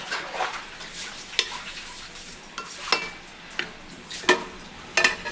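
A ladle scrapes and knocks around a pot of kurma curry in irregular strokes, with sharp metallic clinks over a quiet simmering hiss.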